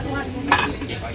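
Plastic and porcelain plates are handled at a busy Divisoria market stall, making a single short clink amid a dense wash of crowd noise and nearby voices.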